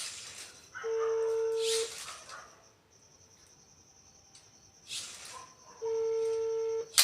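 An unanswered phone call ringing, two long electronic ringback tones with high chirpy bursts at their edges and a quiet gap between them, heard alone.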